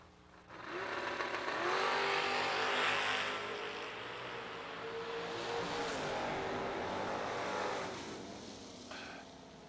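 A Ford Mustang and a Chevrolet launch side by side in a drag race, engines roaring hard and rising through the gears as they sweep past, loud and sustained before fading toward the end.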